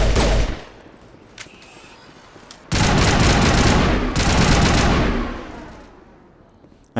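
Heat-based guns firing in Mass Effect, with one short burst at the start and then a long, loud sustained volley of rapid shots that fades away near the end.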